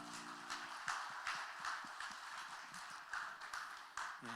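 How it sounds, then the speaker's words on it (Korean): A church congregation at a Thursday mission service applauds with a soft, steady patter of many hands clapping, faint and distant throughout. "우리 하나님께 영광의 박수 올려드리겠습니다"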